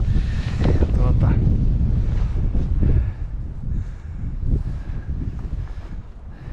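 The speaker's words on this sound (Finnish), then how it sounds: "tuulee, niin kuin varmaan kuuluukin." Wind blowing across a snowy outdoor site in a few degrees of frost, a loud steady roar with gusty microphone buffeting throughout, fading somewhat after the midpoint.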